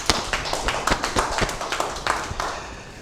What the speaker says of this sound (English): A huge round of applause for this gentleman.